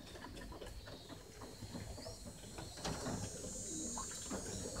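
Soft, low roller pigeon coos repeat irregularly as the birds bathe, over a steady background of splashing and rustling, with a faint mechanical hum running throughout.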